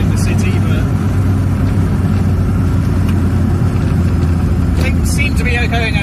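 Reliant Robin three-wheeler car engine running steadily while driving, a constant low drone with a mid-pitched hum from start to finish, with someone talking over it.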